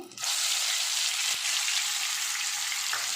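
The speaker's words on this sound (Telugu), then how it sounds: "బాగా మసాలా నూనెలో వేగాలండి" Ground masala paste sizzling in hot oil while cooking a prawn and egg fry, a steady loud hiss of frying that starts abruptly and continues evenly throughout, with a faint stirring clink partway.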